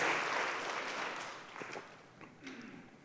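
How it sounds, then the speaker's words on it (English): A church congregation claps during a sermon, a short burst of applause that swells and then fades into scattered claps. "That's a clap, yeah."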